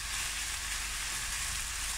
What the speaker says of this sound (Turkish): 2 dakika kadar da bunu kavuralım